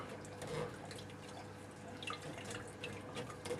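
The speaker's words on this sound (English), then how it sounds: "I'm just putting it through the strainer, just so I can get out all those bits of thyme and the carrot" Braised short rib sauce with bits of thyme and carrot is forced through a kitchen strainer. Quiet, wet dripping and soft scraping continue unbroken at close range.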